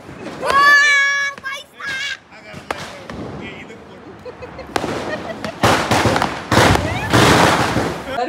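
Firecrackers burst on Diwali night during Lakshmi Puja: several sharp, loud, crackling blasts close by in the second half, after children's voices and chatter.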